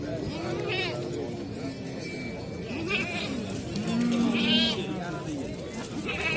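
Livestock market with sheep and goats for sale, several bleats rising out of a busy crowd murmur, one longer call standing out near the middle, with people chatting throughout.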